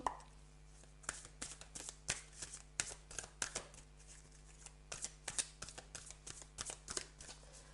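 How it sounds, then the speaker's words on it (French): Tarot cards are shuffled and drawn close by, a quick irregular run of crisp riffling and slapping taps over nearly eight seconds, with no voice. "alors je vais tirer une dernière carte"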